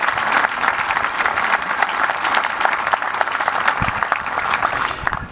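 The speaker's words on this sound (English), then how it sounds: "I think we all owe them a round of applause." Applause from an outdoor Memorial Day gathering in Saline: dense, loud clapping from a sizable crowd, sustained and even throughout, with no speech over it.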